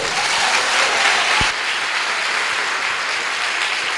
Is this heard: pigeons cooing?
no